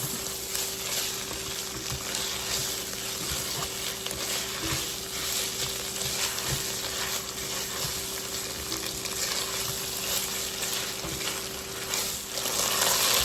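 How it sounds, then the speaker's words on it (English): Tomato paste cooking with beef in a pan, a dense, even sizzle that holds steady and close throughout, with faint stirring ticks underneath and a slight swell near the end, no voices. "So I'm going to just let this tomato paste cook for a good little minute"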